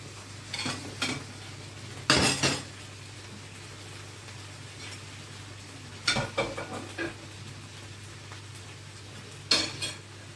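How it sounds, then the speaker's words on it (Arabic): Chicken pieces frying in a very hot pan during home cooking: a faint, steady sizzle under several short, sharp bursts of utensil clatter against the pan, with no voices. "ابتدي انزل بقطع الفراخ"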